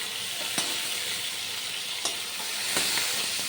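Pointed gourd (potol) frying in mustard oil, a steady loud close sizzle with a few brief clicks of a spatula against the pan, and no talking.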